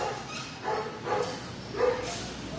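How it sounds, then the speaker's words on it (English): A husky barks and yips at an animal shelter, giving three short woofs spaced about a second apart, fairly close and moderately loud over a quiet room. "Yes, I hear you, Husky"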